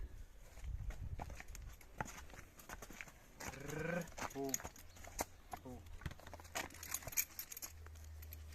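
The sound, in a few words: Belgian draft horses moving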